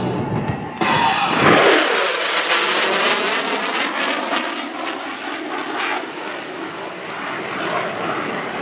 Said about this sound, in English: From the right, the Super Hornet high speed pass.